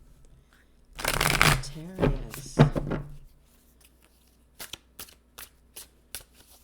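Tarot cards are shuffled in a loud riffling burst with a couple of quick follow-up riffles, then a few soft taps and a brief spoken word.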